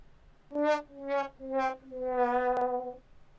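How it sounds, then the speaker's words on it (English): A muted trombone plays the classic descending "wah-wah-wah-waaah" sad tune: three short falling notes, then a long wavering final note. "Here's your sad horn."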